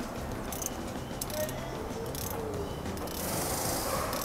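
A new oil filter is tightened on a Mercedes-Benz E 350e during a service, giving faint ratcheting and mechanical clicking, close by and fairly soft over steady workshop background noise.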